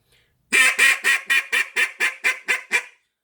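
A duck call is blown in a quick run of about nine sharp, evenly spaced quacking notes, each note cut off hard, loud and close with no talk.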